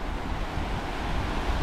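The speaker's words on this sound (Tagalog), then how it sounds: "malalaki ng alon." Big waves and strong wind at sea off the Philippines on an overcast day after a typhoon, heard from a fishing boat as a steady, loud roar of surf and wind buffeting with no break and no talk.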